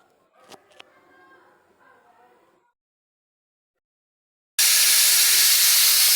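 A pressure cooker cooking beef suddenly lets out a loud, continuous steam whistle that hisses strongly after a few quiet seconds of faint kitchen noise and soft voice.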